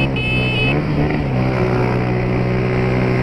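A motorcycle engine fitted with a new Pro Tork filter runs steadily close by as the throttle is released, a dense continuous drone with a brief higher whine near the start.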